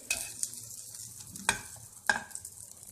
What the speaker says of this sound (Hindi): इसको हम अच्छी तरीके से गोल्डन गोल्डन सा फ्राई कर लेंगे।